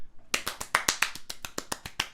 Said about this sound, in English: There's the clap sound effect.